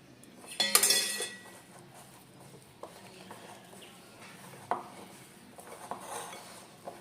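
A spoon scrapes and clinks against a metal pot while spice filling for stuffed chillies is mixed, with a burst of clattering early on and then scattered sharp taps and scrapes.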